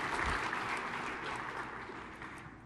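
Audience applause after a session at a SharePoint conference, a sustained, moderately distant wash of clapping from a crowd that gradually tapers off.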